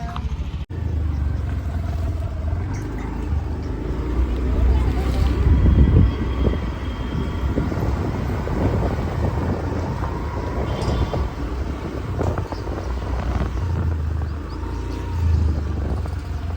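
Scooter ride on an Activa, with steady engine hum and heavy wind buffeting the microphone throughout, and a voice speaking now and then over the road noise.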